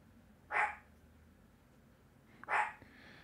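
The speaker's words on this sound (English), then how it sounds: "My dog's losing his mind." Dog barks twice in a room, each a short loud burst separated by about two seconds of quiet, set off by a delivery arriving at the door.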